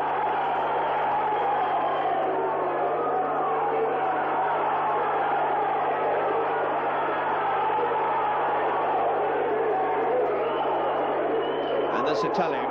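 An Italian crowd at a professional boxing match fills the arena with steady, loud, continuous chatter and cheering, a dense wash of voices that never lets up, with a short sharper burst near the end.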